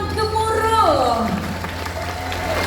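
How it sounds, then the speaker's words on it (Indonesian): A crowd at a formal ceremony applauds with a steady wash of clapping beneath musical tones and a hum, the applause moderate and continuous with possible voices mixed in. "Hadirin sekalian, mari kita berikan tepukan yang gemuruh."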